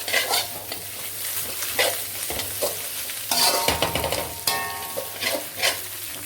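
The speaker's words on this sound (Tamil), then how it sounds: "பீன்ஸை ஒரு நிமிஷம் லைட்டாக நல்லா வதக்கணும்" Beans and carrots are sautéed in a pan for chicken fried rice, with a soft sizzle under repeated stirring scrapes and clinks of the spatula against the pan.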